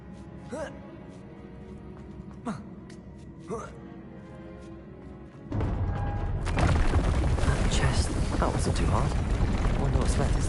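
The Depulso spell is cast in the Hogwarts Legacy video game: a few sharp swishes over a low hum, then a sudden loud, sustained rumbling blast that fills the rest of the moment.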